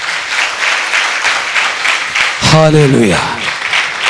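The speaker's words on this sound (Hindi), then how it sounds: "ताली बजाओ मसीह खुदावंद के नाम की।" A congregation claps in the name of Lord Jesus Christ during a church sermon, broad steady applause running throughout while a voice shouts a single exclamation over it partway through.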